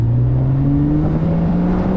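A 2007 Porsche Boxster S with a manual gearbox drones loudly and steadily from its mid-mounted engine, the pitch climbing smoothly as it revs through a gear, heard up close from inside the car with no talk.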